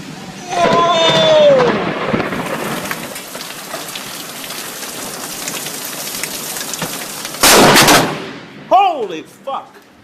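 A close lightning strike sets off a sharp, loud thunder crack during a heavy rain barrage in a thunderstorm. Steady rain hisses throughout, and excited voices shout before and after the burst.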